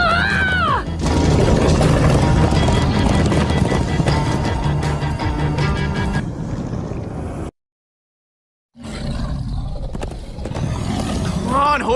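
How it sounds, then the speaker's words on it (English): Horses galloping in the Minecraft Story Mode game, loud pounding hoofbeats mixed with clattering effects and music, cutting to a brief silence before the rushing ride resumes. "Come on, horses!"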